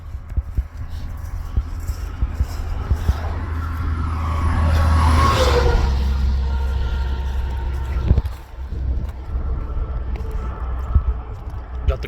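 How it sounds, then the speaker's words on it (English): Steady road traffic with cars passing, a broad low rumble that swells to a peak around the middle and then eases off, continuous and moderately loud outdoors. "Got the cars passing"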